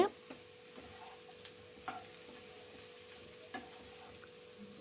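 Bitter gourd with onion and spices fries in oil under a faint, steady sizzle, with soft occasional taps of a stirring spoon against the pan and a low hum throughout.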